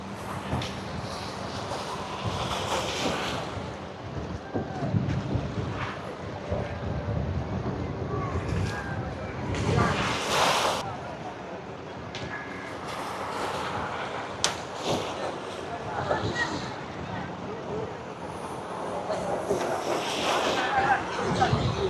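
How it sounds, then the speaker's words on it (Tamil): A 15-horsepower racing boat out on the water, heard as a steady engine drone mixed with gusting wind buffeting the microphone and water noise, with people talking nearby. "15 கோர்ஸ் இன்ஜினுடைய பவர் தான் இந்த போட் பாருங்க"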